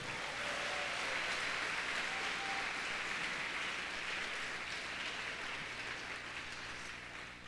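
A church congregation applauds, a dense steady roar of many hands clapping that holds evenly and tapers slightly at the end, with no voices over it.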